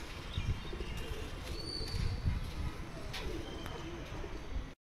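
Pigeons cooing in a loft with a breeding pair, low repeated coos close by over continuous background rustle and noise, lasting several seconds before cutting off.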